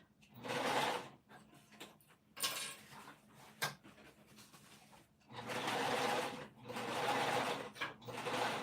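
A sewing machine stitches a seam on a winter crescent bag, running in a short burst, pausing amid light handling clatter, then running again in a long steady whir close by.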